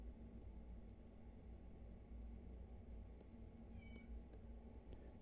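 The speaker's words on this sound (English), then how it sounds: "If you hear my cat in the background" A cat meows faintly in the background over a steady, noisy indoor hum.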